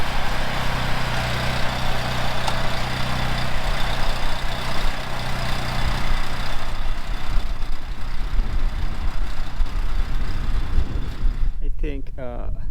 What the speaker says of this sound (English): So now I'm going to run in the 2-wheel tractor